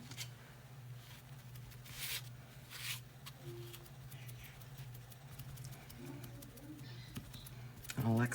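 A talkative pet bird chirps and chatters faintly in the background, with scattered short calls over a low steady hum, alongside light clicks and rustling, and a louder burst of sound at the very end.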